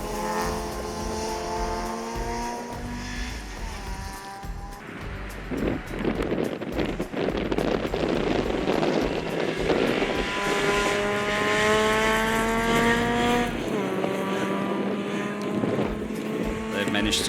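VW Polo rally cars race through a stage of the 2022 Algoa Scribante Rally, engines revving hard with rising whines that peak as each car passes, fading and then surging again with a second car, under wind noise.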